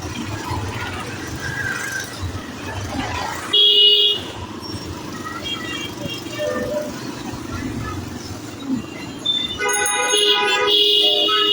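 Car horns honk in a badly jammed street in Chattogram during the Bengali New Year, with short toots and longer blasts over constant road noise, close and loud, while people talk nearby.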